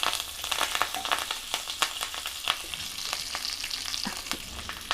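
Cumin seeds and curry leaves frying in hot oil for South Indian sambar, giving a steady dense crackling sizzle with sharp pops scattered throughout, close and continuous with no talking.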